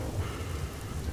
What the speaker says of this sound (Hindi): देखते देखते बारिश तेज हो जाती है।